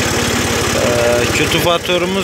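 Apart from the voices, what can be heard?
Massey Ferguson 266 tractor engine running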